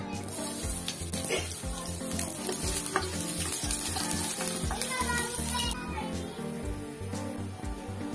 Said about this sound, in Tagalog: Ngayon naman po maggigisa na po tayo para sa recipe ng ating daing. Unahin natin yung bawang.